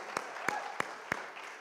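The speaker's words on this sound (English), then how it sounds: "Come on, give the Lord a hand clap of praise." A few scattered hand claps from a church congregation during a Sunday morning service, four sharp separate claps spaced about a third of a second apart against quiet room noise.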